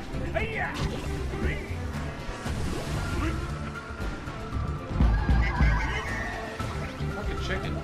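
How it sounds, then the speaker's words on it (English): A squawking chicken in the platform game Donkey Kong Country: Tropical Freeze, mixed into busy game music and effects with thuds and crashes, with a voice speaking now and then. "Fucking chicken."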